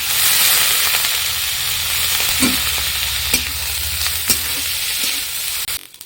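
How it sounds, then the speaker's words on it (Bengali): Grated coconut sizzling in a pan with chopped coriander leaves and green chili, a close, continuous frying hiss broken by a few sharp stirring scrapes and taps. "নারকেল একটু ভাজা ভাজা করে নেব"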